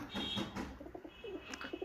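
Pigeons coo at a loft, a couple of soft, low throaty coos, faint and brief against quiet surroundings.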